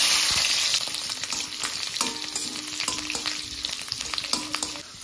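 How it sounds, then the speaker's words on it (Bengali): Garlic fries in hot oil in a wok, giving a loud, steady crackling sizzle with scattered stirring scrapes and taps throughout. No one speaks. "প্রথম আমি রসুন দিয়ে দেবো।"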